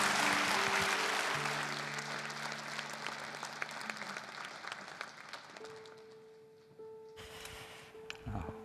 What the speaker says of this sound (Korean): 여러분 큰 박수로 격려하며 말씀을 듣겠습니다.